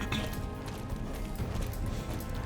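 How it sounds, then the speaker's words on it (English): Horse hooves gallop in a steady rapid rhythm during a pole bending and cross country race in the Star Stable video game, close and continuous over a soft background of game ambience. "I can have him gallop very quickly all throughout the race"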